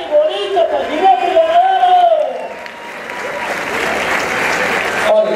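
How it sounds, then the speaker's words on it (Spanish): A rodeo crowd bursts into applause for a rider, building to a dense wash after an announcer's voice over a loudspeaker fades out. "Le regala un aplauso fuerte y bonito para el jinete"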